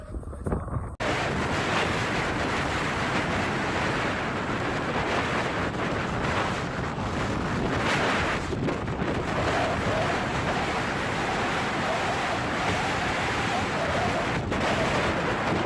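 Storm wind roars and heavy waves crash around a large Dutch-flagged fishing vessel at sea, a loud continuous rushing wash with microphone buffeting throughout.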